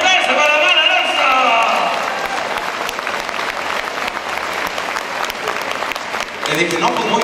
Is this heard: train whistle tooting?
no